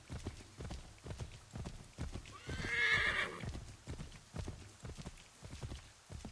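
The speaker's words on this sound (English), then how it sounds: "See if we can just spur this up. Dang, this horse speeds up." Horse hooves in Assassin's Creed 3 Remastered beat in a steady, rhythmic clip-clop as the animal is spurred to speed up, with a loud whinny rising midway and no talking.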